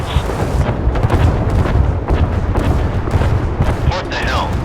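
Missile launches and explosions in the naval combat game Force of Warships form a dense, loud rumbling barrage with sharp bursts and a rising whoosh near the end.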